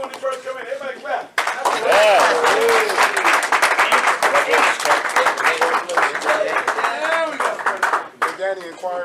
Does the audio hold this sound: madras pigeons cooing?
no